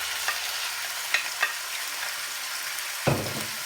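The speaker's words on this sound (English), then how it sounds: "So we're going to stir fry this for 2 to 3 minutes." Loud, steady sizzling of chicken stir-frying in a hot pan, with a few clanks of a utensil scraping and tapping the pan.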